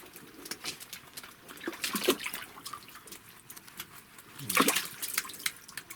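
Water is poured into a bathing tub for nutrias, an irregular splashing and trickling at close range, swelling into a louder gush near the end.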